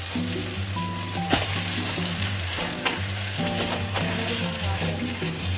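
Onions and tomatoes for ginisang cabbage sizzle and crackle steadily in a hot pan, with an occasional clink of a utensil and a low background hum running underneath.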